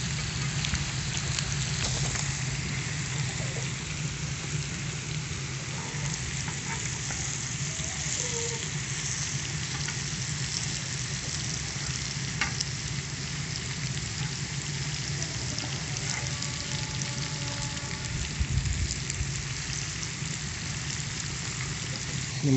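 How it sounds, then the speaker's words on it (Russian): Champignon mushrooms, onion and pork fry on a homemade saj pan over an outdoor fire, a steady crackling sizzle running continuously at close range for over twenty seconds, with a few faint knocks and no talk. "Грибочки жарятся, грибы шампиньоны, мяско свининка уже готова."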